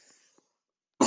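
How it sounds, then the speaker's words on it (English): A single loud, abrupt cough bursts in near the end after near silence, close to the microphone and cut off as the clip ends. "Apologize for my constant coughing"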